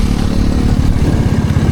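A Bullet motorcycle rides along with a deep, thumping low engine pulse, loud and close, with wind and road rumble around it.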